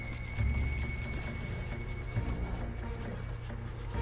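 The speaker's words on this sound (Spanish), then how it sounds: "Era un caballo." Horse hooves clip-clop steadily in Red Dead Online, a muffled trotting rhythm under a dense, constant game soundscape, with no talk.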